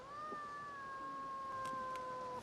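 A cat lets out a single long, steady yowl lasting over two seconds, fairly clear over a faint hiss.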